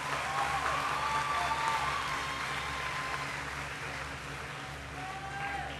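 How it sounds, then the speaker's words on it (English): Graduating high school seniors of the class of 2014 clap for their families at a commencement ceremony, sustained applause from a large crowd in a big hall, steady throughout and slightly distant. "Seniors, will you please take a moment to clap for your family and friends who have supported you?"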